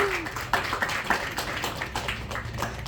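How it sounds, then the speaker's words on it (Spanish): Congregation applauding for the Lord during a church sermon, a steady wash of scattered claps over room noise with a short tonal sound near the start. "Denle un aplauso al Señor."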